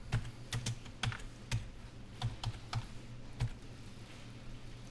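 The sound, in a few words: typing an action name on a computer keyboard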